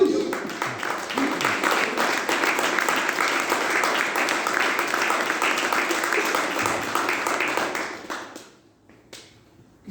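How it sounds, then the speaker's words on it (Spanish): Church congregation clapping in a dense, steady wave of applause for about eight seconds, then fading to a few scattered claps and near quiet. "Den un aplauso a Jesús."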